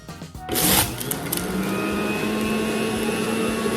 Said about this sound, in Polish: wrzucam ją do sokowirówki